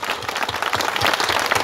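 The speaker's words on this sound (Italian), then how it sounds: "questo applauso è per tutti voi" Loud, sustained applause from a crowd at an Italian political rally, a dense wash of clapping with no pauses, close and enveloping throughout.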